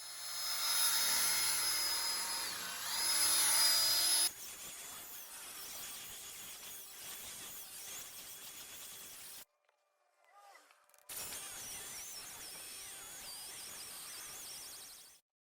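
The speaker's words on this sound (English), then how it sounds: "here's a quick look at the polishing stage of the passenger headlight" Power polisher buffing a hazy Fiat 500 passenger headlight lens, a steady loud whirring hiss that drops in pitch partway through, briefly cuts out, then resumes close by.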